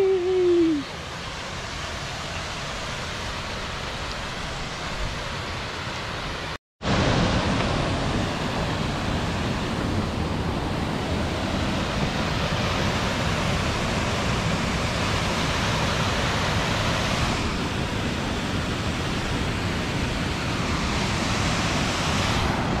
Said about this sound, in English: We arrived in the waterfall.